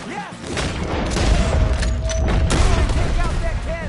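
Gunshots and booming blasts ring out in a Red Dead Redemption 2 battle, with cannon fire from up a hill, dense and close under shouted voices.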